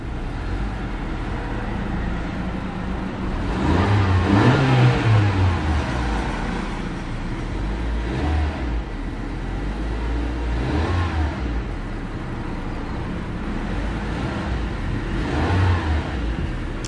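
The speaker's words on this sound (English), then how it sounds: "Quick rev." The turbocharged engine of a 2018 Honda CR-V gives several quick revs, each a smooth rise and fall in engine note over a steady idle hum, spaced a few seconds apart.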